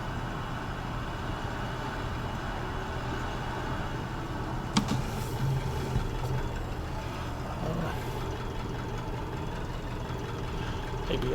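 A tractor engine in Farming Simulator 19 drones steadily at a low idle-like rumble throughout, with a few brief clanks near the middle and no voices.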